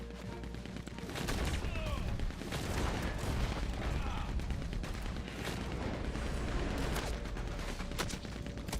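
Heavy gunfire in the Western video game Red Dead Online: dense, sustained volleys and overlapping shots keep up a loud, continuous barrage for the whole stretch without a break.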